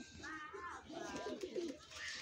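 Pigeons kept in a home loft coo softly, several throaty, wavering calls overlapping at close range, fairly quiet.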